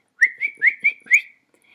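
A boy whistles a short tune of five bright, clear notes in a quick, slightly uneven rhythm, close and fairly loud, with no other sound around it before it fades to quiet.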